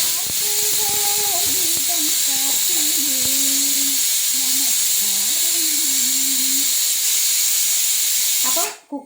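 Steam hisses loudly and steadily from a pressure cooker in a home kitchen, a constant close rushing sound that runs almost the whole time before cutting off sharply at the end, with faint tones and sounds underneath.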